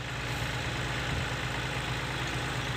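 A Kubota L4018 tractor engine runs steadily at a low idle nearby, a constant rumbling drone with no other sounds over it.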